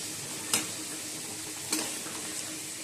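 Flattened rice (chira) and potatoes frying in a pan make a faint, steady sizzle, broken by two sharp clicks of a utensil against the pan.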